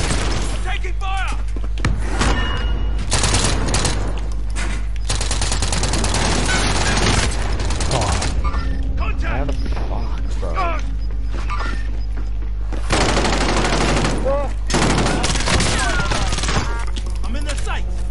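Loud, dense bursts of gunfire in a Call of Duty Warzone match, with rapid automatic fire and heavy booms packed together throughout, under shouted voices.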